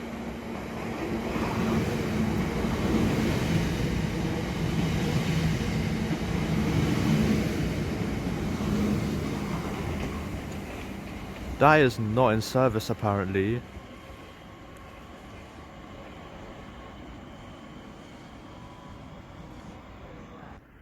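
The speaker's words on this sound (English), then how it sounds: "Train to pass by will be a Southeastern 465." A Southeastern class 465 electric train passing at a suburban station, a steady broad rumble building over the first dozen seconds before fading, with a brief loud burst of squealing tones near the end and a short spoken remark.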